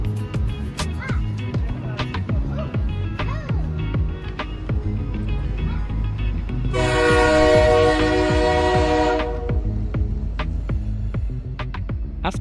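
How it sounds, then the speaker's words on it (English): Train arriving at a Tehran railway station, rumbling and clattering over the rails at a steady rhythm, with a loud horn blast sounding for a few seconds midway. "The train arrived in Tehran with an hour delay."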